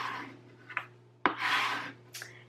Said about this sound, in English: So we're going to quickly burnish the front and back.